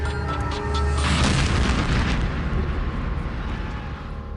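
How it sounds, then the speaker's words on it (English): A deep, rumbling explosion booms and rolls on for several seconds, loud and broad, slowly fading out without any voices. "until the explosion."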